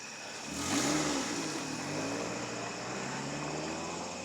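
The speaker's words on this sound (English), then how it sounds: "Here comes a car. It's not a cop." A car drives past on a residential street during a walk, its engine rising to a peak about a second in and then fading into a steady, fairly faint hum as it moves off.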